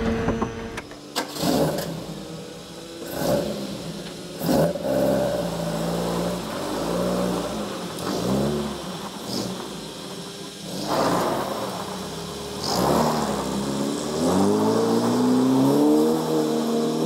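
A Caterham kit car with a pushrod 1600cc engine starts up and drives off, its engine note rising and falling through repeated revs, heard close and loud with no talking.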